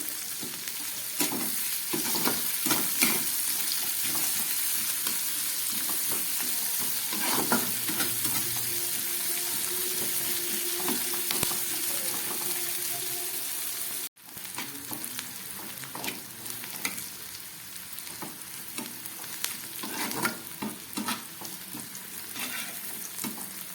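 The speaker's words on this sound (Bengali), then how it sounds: "পেঁয়াজটা আমার ভাজা হয়ে গেছে" Onions fry in a pan on a gas stove turned up to medium, sizzling steadily with repeated scraping stirs, close and moderately loud with no talk.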